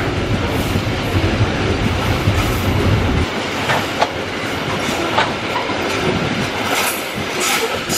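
A long Babaranjang freight train in Indonesia rumbles past close by, wheels clattering and squealing steadily on the rails, the low roar easing partway through.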